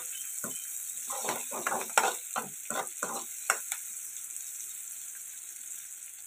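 Seasoning frying in a pan for a ridge gourd and chana dal curry, with a soft sizzle under a series of scraping stirs that come in uneven bursts, then settle to a quieter sizzle.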